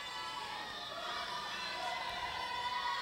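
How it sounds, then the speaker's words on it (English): Coaches and fans cheer from the stands at a girls' high school swim meet, a steady, distant crowd roar with faint shouts under a continuous wash of indoor pool noise. "You hear the coaches and fans cheering on both girls."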